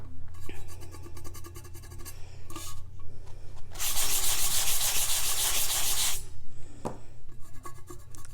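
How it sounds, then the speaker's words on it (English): Sandpaper rubs against a tumbler's curved lower section, steady scratchy back-and-forth strokes close up, swelling into a louder, denser stretch of rasping in the middle before easing back to lighter strokes. "So I'm just kind of using the bottom of my sandpaper here."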